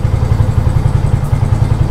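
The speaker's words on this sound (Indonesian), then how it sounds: "mesin idle maksud saya" A Honda Tiger motorcycle engine idles steadily with a fast, even low thumping pulse and a light mechanical clatter, close up and unbroken, with no voices over it.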